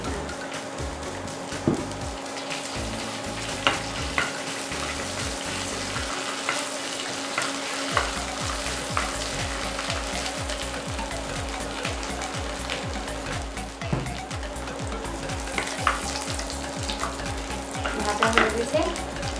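Bay leaf, cinnamon, cardamom and cloves fry in hot oil, giving a steady close sizzle with occasional stirring scrapes against the pan and a faint background hum.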